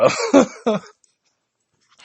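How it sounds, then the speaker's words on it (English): A person coughs or clears their throat three times in quick succession, loud and close, then a brief pause of silence before another faint burst. "Trying to move away for the coughing."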